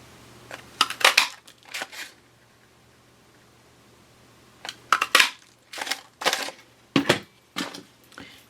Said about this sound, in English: now we're going to take the cookie cutter punch and cut that out